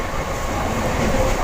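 A passenger train runs through rain, giving a steady broadband rumble with faint rail rattle that swells slightly toward the end, with no voices over it.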